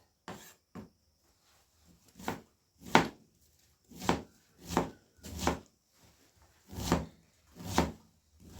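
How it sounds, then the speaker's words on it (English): Carrots and vegetables are chopped with a chef knife on a board, giving about ten separate, close knocks at an uneven, unhurried pace with short quiet gaps between them. "I'm using my chef knife."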